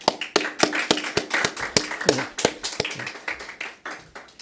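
Church congregation at a Sunday service clapping in encouragement, a small group's claps coming as sharp, fairly near, loosely timed bursts that steady into rhythmic clapping without speech.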